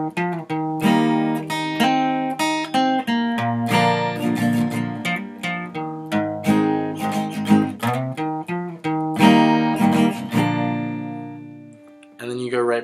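Acoustic guitar strummed close and loud plays the rhythm part of a song. The chords move in a steady, bouncy pattern with crisp downstrokes and brief let-ring pauses, and no talking.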